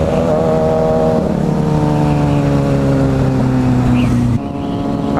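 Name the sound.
Yamaha WR250R motorcycle revving for a wheelie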